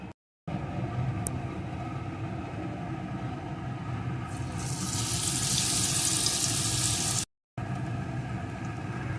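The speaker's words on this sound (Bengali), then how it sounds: "এখন আমি ওই তেলের ভিতরে দিয়ে বেগুনটাকে একটু ভেজে নেবো" Eggplant fries in hot oil with a steady, close hiss that swells louder midway and then settles. Two short silent gaps interrupt it, and no one speaks.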